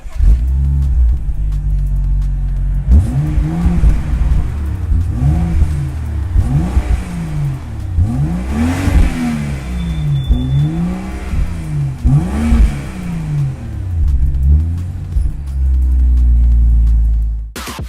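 A BMW F10 3.0 engine with an aftermarket exhaust revs repeatedly up and down close by, its deep, throaty exhaust rising and falling in quick bursts before settling into a steady idle.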